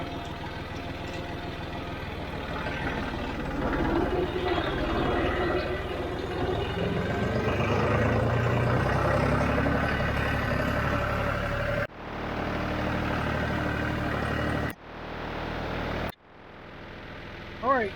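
A John Deere tractor engine runs steadily while hauling wagons on a farm, a loud low drone that rises and falls with gear changes and breaks off abruptly several times.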